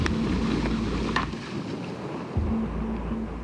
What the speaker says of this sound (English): The wind makes the kayaks difficult to control.